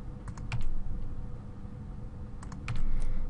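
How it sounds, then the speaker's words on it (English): Keyboard key presses and mouse clicks while extruding shapes in 3D modeling software, small clusters of light taps at two moments over a steady low background hum, fairly close and with no talking. "using the extrude tool by hitting E each time and then clicking"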